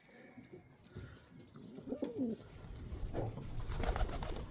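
Soft, low pigeon cooing from an outdoor aviary rises faintly out of a quiet background on a frosty day, with a high steady hiss and light rustling throughout.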